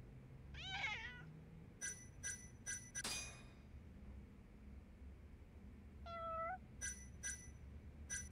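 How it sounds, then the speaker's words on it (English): Cats meowing in the video game Judgment, a few distinct meows, one early and one later, between bright repeated chime-like tones and a sharp clink, with quiet ambience and no talk. "God, so many cats."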